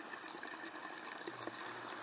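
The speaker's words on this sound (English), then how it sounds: "you just fill the containers up until the water drains out" Steady trickling water, a continuous gentle stream running out of a garden container's drain hole without pause.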